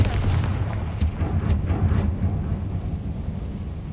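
Explosive blasts from the Confringo spell in the video game Hogwarts Legacy, a few sharp booming impacts in quick succession followed by a rumbling decay.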